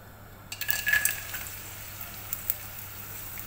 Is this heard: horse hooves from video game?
no